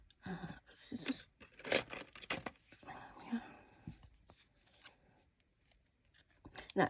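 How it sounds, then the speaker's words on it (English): Small craft scissors snip thread in a few quick, quiet cuts amid soft rustling and handling noises, with faint talk nearby. "Scissors."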